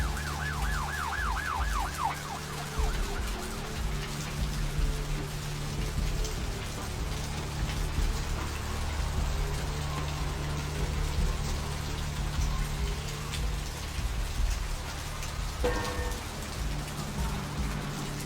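Steady rain hisses across surfaces in the vampire video game Vampire: The Masquerade – Bloodlines, a dense, continuous downpour with a brief siren-like wail sweeping near the start.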